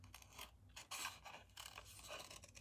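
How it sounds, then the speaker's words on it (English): Scissors snip and slide in curvy cuts around a cardstock sentiment, giving a few soft, close scraping cuts with short gaps between them, faint and without talk. "I'm just going to cut around this, curvy cuts,"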